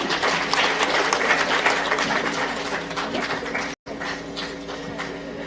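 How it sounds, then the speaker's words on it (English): Conference audience applauding the session chair, a dense, sustained clapping from a full room that runs throughout, broken only by a brief dropout near the end, with a little background voice. "A big round of applause to our session chair, Professor Augustus."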